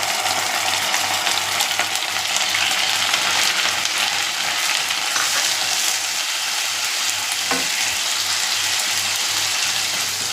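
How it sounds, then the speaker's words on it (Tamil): Ginger garlic paste sautéing in hot oil in a pan on a low flame, a loud, steady, close sizzle and crackle that runs without pause from start to end. "இஞ்சி பூண்டு பேஸ்ட்டை போட்டு நல்லா வதக்கி விட்டுக்கலாம்."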